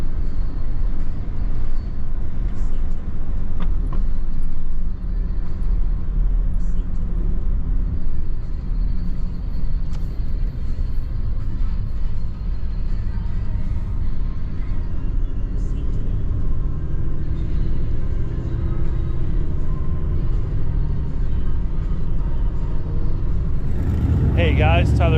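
A car rolling into the main compound of Z-Max Raceway at a street car event, a steady low engine and road rumble heard from inside, with a louder burst near the end.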